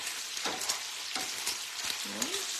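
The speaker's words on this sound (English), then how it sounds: "Gotta keep stirring our bacon. We're starting to get some crispies, but we want to cook it till it's pretty crisp." Bacon for pecan brittle crackles and sizzles steadily in a pan, with soft scraping strokes as it is stirred, close up and without talk.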